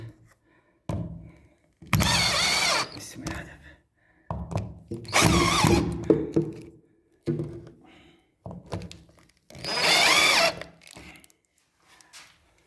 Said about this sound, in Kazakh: Осындай қысқа арнайы бұрап шығамыз.